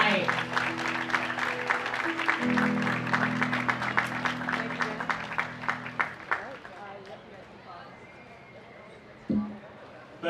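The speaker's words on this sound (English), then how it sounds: "One big round of applause for all of our visiting queens." Audience applause at the Maine Lobster Festival Sea Goddess coronation, a dense crowd clapping steadily for about six seconds before fading, followed by quieter room sound and a brief bump.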